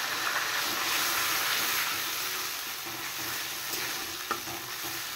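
Cumin and ginger paste sizzles steadily in hot oil while a katla fish curry fries, a close, continuous hiss with faint stirring clinks.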